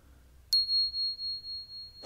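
A notification bell sound effect rings with a single bright, clear ding that sustains with a slow wavering shimmer for about one and a half seconds, ending in a short burst of noise.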